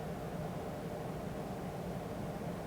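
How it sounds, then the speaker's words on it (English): Steady broadband whoosh of a Honda Civic air-conditioning blower motor running, a constant faint airflow hum with no talk over it. "And if you can hear the blower motor right now"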